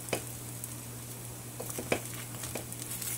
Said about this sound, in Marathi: तर आप्पे असे सहज पलटायला येतील, असे काट्याने किंवा चमच्याने पलटू शकता